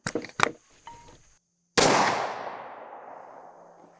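A muzzleloader fires a 300 grain Thor full-bore bullet over a pre-measured charge of Triple Se7en powder, giving one sharp, loud blast with a long decaying echo. A few quieter clicks and handling sounds come before it.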